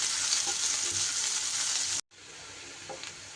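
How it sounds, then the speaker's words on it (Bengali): Chopped onion frying in oil left over from frying catla fish while it is stirred: a loud, close, continuous sizzle with a brief cut in the middle, and faint scraping from the stirring. "এবার নাড়িয়ে চাড়িয়ে ভেজে নিতে হবে।"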